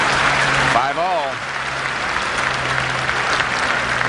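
Crowd applauding at the 1985 US Open tennis final, a dense steady roar of clapping throughout, with a commentator's voice heard briefly above it.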